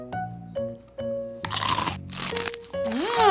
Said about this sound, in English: she saw a deer munching on an apple